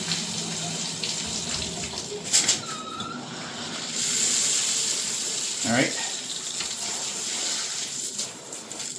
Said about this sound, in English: I'm gonna put the water on.